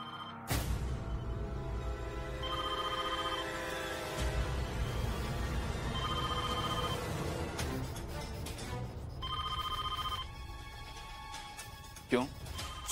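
A telephone rings in repeated trilling bursts, three rings spaced a few seconds apart, set in an indoor domestic scene from a Hindi TV serial, with background music underneath.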